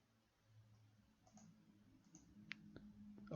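A computer mouse gives a couple of small, faint clicks over quiet room background, followed by a louder tap at the very end.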